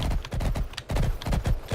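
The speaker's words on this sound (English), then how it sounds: "I just sprinted my horse directly into this" Rapid, steady hoofbeats of a galloping horse in the Star Stable online game, a continuous thudding rhythm throughout, loud and close with no talking over it.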